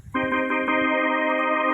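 Organ voice on a 61-key Pastel Siamkey keyboard: a sustained chord starts abruptly and holds at an even, steady level with a rich stack of harmonics and slight pulsing, heard alone.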